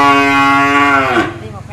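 A single long, loud moo from cattle in a newly arrived batch at a cattle farm, close by, falling in pitch toward the end over a faint low rumble.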